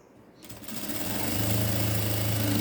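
A sewing machine starts up and runs steadily, stitching the seam of a ladies' elastic-waist pant, a close, fast, even whirring hum after a brief quiet start, with no talking.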